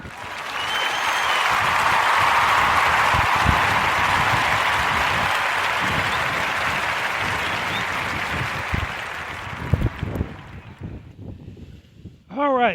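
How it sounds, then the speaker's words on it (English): A round of applause rises and swells into a broad, dense wash of clapping, then fades out near the end, where a voice briefly comes in. "giving Davida Potty a warm narrative podcast round of applause for Eva's Corner."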